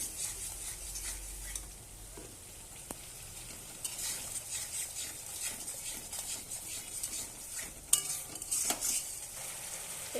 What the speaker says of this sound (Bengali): মশলাটা এবার আমি ভালোভাবে কষাবো।